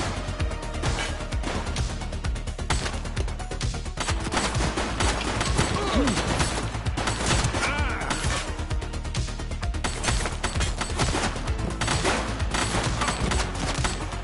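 Dense, sustained gunfire from the police video game The Precinct: rapid overlapping bursts and crashes run loud and continuous through the whole stretch with no pause.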